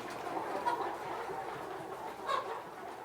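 Ataks pullets cluck softly in a chicken coop in the morning, a steady low murmur of hen calls with a couple of slightly louder clucks standing out, no talking.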